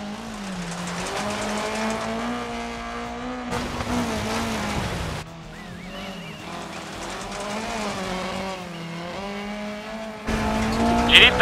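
An Opel Kadett GT/E 16v rally car engine whines and revs through gear changes, with tires squealing on turns, loud and steady from the in-car camera in the racing game DiRT Rally, on the River Severn Valley stage.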